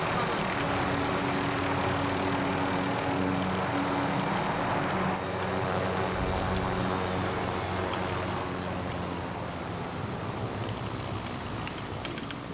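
A helicopter in Call of Duty Warzone drones steadily and loudly throughout, with a continuous rotor and engine hum that dips slightly partway through.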